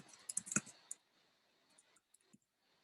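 Keys clicking on a computer keyboard in a short burst of typing, a quick cluster of crisp taps up front, then a few sparse, fainter taps after a pause, with no talking.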